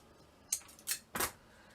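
Scissors snip three times in quick succession, quiet and close, while pieces are cut for a handmade miniature Christmas village.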